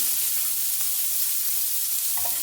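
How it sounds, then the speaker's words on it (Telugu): Onions sizzle steadily in hot oil in a kadai already holding tempered spices, a continuous bright frying hiss with a brief louder burst near the end, no voices. "ఆనియన్స్ యాడ్ చేసుకుంటున్నాను నేను."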